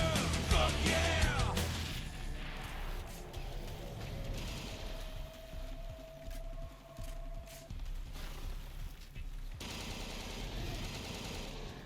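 Automatic assault rifle fire in the Dark Sector shooter, loud sustained bursts and chattering shots layered with game effects and a brief whining tone, continuing across the whole stretch.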